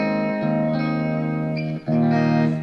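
Distorted electric guitar plays a riff, sustained chords ringing over a low E pedal tone with a brief break before the chord changes, loud and close.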